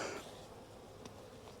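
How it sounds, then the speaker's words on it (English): A steady, soft buzzing of many honeybees at an open hive during a January inspection, a continuous low hum with an occasional brief louder pass. "Lots of bees up on top."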